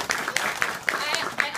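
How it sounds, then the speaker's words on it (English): At a graduation ceremony, the audience applauds the school principals with moderate, scattered clapping in soft repeated bursts, while a voice keeps speaking over it. "Please let's give her a round of applause."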